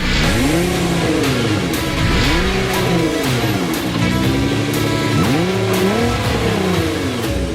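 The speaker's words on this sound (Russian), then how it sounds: "Легендарный Nissan GT-R Black Edition." A Nissan GT-R Black Edition supercar revs and accelerates loudly and up close, its engine pitch sweeping up and down repeatedly through several gear changes, with no talking over it.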